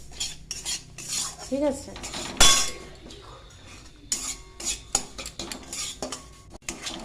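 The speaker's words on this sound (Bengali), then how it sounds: "এবার সুজিটাকে কড়া না কিন্তু জাস্ট একটু ভেজে নেব।" Semolina being stirred and lightly roasted in ghee with cardamom in a pan, with repeated metal spoon scrapes and clinks against the pan, close and fairly loud, and one sharp clatter; a voice speaks briefly.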